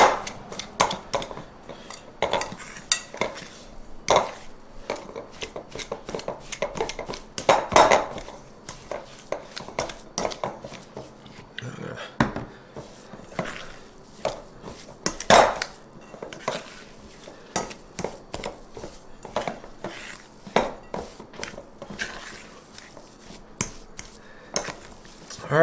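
Almond keto cookie dough for white chocolate almond cookies mixed in a bowl, with a steady run of close scraping and clinking of utensil against dish, repeated knocks and taps throughout, no talking.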